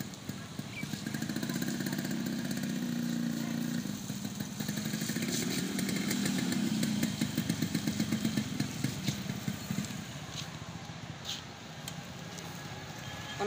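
A Yamaha RX 100 motorcycle engine running while being ridden on a road, a continuous rough two-stroke drone with rattling pulses, loud and close throughout.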